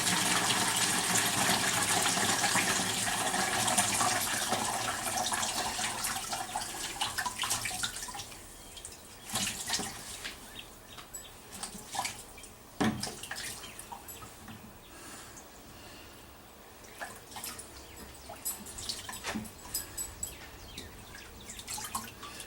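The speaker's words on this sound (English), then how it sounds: "So now we want to drain all that water and baking soda mixture out." Water and baking soda mixture draining out of a battery, a steady wet gushing and trickling that is strongest at first, then thins into scattered drips and splashes, close by with no talk.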